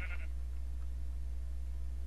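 A single short sheep bleat from Minecraft sounds near and clear at the very start, then gives way to a steady low background hum.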